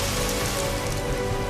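Heavy continuous rain drumming steadily on surfaces, a dense, loud, unbroken patter close by with no voices.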